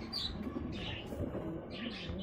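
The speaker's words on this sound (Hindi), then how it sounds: "150 से ज़्यादा कबूतर हैं इसके अंदर, उड़ते हैं।" Pigeons in a rooftop cage housing over a hundred racing birds, soft continuous cooing and murmuring from many birds at moderate distance, fairly quiet with no talking.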